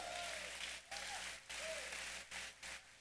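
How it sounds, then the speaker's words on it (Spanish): A church congregation at a Sunday service applauds in a steady wash of clapping, broken by several brief pauses, with faint voices in the room. "Alguien aplaude al Rey."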